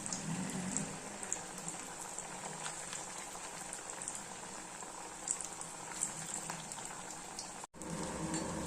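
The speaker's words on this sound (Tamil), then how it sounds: "இப்போ ஒன்று ஒன்றா போட்டுக்கலாம் எண்ணெய் நல்லா சூடாக வச்சுக்கோங்க" Sago and potato vadai frying in hot oil, a steady low sizzle and bubbling that holds evenly throughout with a brief dropout near the end, no talk.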